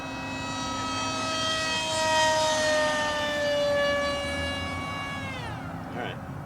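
A Hobbyzone AeroScout S2 RC plane's propeller motor running at full throttle on a speed run, a loud whining tone that rises, holds, then drops in pitch as the plane passes and recedes.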